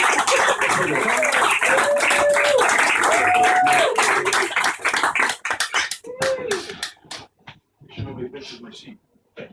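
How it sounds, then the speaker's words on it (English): A comedy club audience at an Edinburgh Fringe show breaks into loud, sustained applause and cheering for a comedian, the clapping thinning into scattered claps toward the end while a host's voice rises over it. "Can I have a massive round of applause for Rory?"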